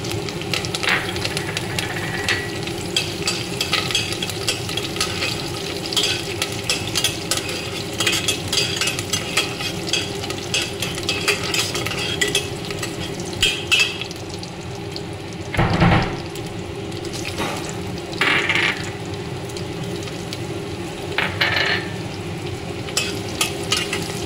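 Tempering spices sizzle steadily in a pan at the start of a mushroom curry, with stirring scrapes and occasional louder clatters over the constant frying hiss.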